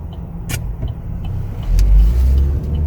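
A 2022 Chevrolet Equinox LS accelerating on a test drive, heard from inside the cabin as a low steady engine rumble that swells around the midpoint, with a few small clicks.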